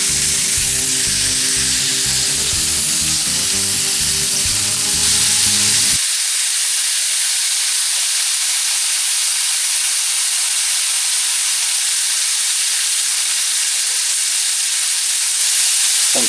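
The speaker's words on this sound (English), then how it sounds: "I like to stand it up and get the edges also all seared up." A venison roast sears in a hot pan with a loud, steady broadband sizzle that continues unbroken. Some low tonal sound sits underneath during the first few seconds, then drops away.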